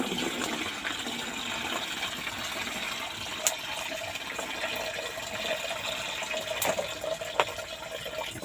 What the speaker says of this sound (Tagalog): Tubigan po natin ulit